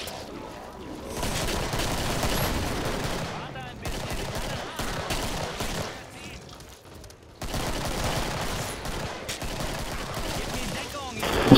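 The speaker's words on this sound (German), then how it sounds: "ein ganzes Magazin in den reingepumpt" Sustained automatic gunfire in the video game Killing Floor as a whole magazine is emptied, loud and continuous in bursts with a short break near the middle, along with game noise and talk.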